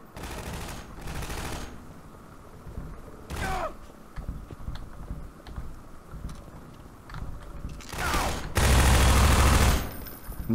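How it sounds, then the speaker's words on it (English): SMG fire in Half-Life 2, heard as short rattling bursts of automatic gunfire in a game firefight, with mechanical clacks between volleys and a louder sustained burst near the end. "I never used the SMG this much, surprisingly."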